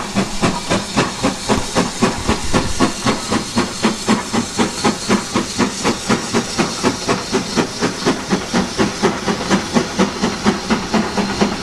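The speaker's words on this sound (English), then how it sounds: "Now here's this large tank engine coming out again. This time it's pulling the" A large steam tank engine on the Bluebell Railway hauls a train of coaches ending in an observation coach, its exhaust chuffing in a steady, rapid rhythm amid continuous hissing steam, loud and close throughout.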